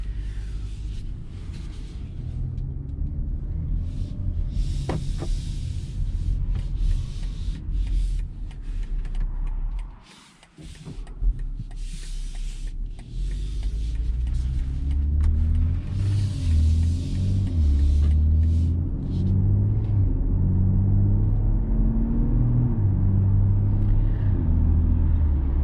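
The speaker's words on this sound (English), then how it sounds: "So driving this beautiful 2021 BMW X3, drives nice and smooth, barely any wind from the outside" Cabin sound of a 2021 BMW X3 M40 with the premium package on the road: a steady, loud low engine and road rumble. It dips briefly midway, then settles into a smooth, even drone with little wind noise.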